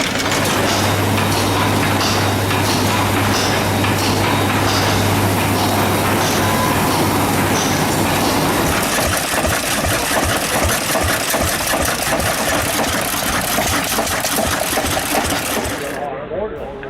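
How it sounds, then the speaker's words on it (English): A giant vintage hot bulb engine running under load: a loud, dense mechanical roar that settles into a steady, rhythmic thumping pulse, close and continuous. "This giant hot bulb engine's slow, steady pulse reminds us how early engineers mastered fuel ignition without spark plugs"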